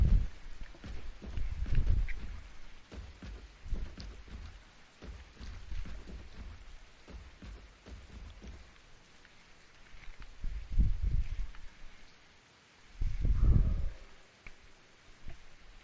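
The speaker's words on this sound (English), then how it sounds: "Is it always raining on this map?" Rain in the video game Poly Ark, a soft continuous patter broken by several deep rumbling swells like thunder, moderately loud, with no voices.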